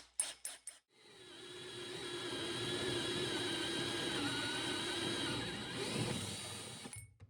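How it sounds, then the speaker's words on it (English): A hole saw cuts through a well cap, a steady high-pitched whirring drill tone with grinding underneath that rises after a few short starting bursts, holds for about five seconds and then stops abruptly. "we'll use a hole saw to cut"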